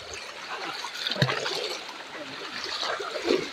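Water splashes and trickles as someone wades across a river, fairly faint, with a few sharper splashes between softer swishing.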